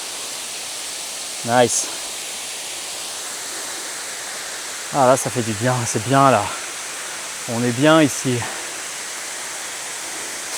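A waterfall along a hiking trail in Bulgaria pours out a constant, even rushing roar close by, with someone speaking French in short bursts over it.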